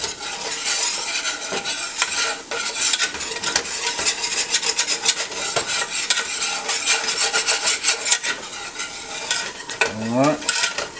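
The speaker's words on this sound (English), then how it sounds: "Start scrape these seasonings that's in there." A utensil scrapes seasonings off the bottom of a pan while beef liver cooks for gravy. It gives a busy, continuous rasping and scraping over a sizzle, close and fairly loud throughout, with no speech.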